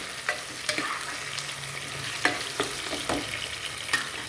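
Small onions frying for sambar, a soft steady sizzle punctuated by several sharp spatula scrapes and taps against the pan, close and without speech.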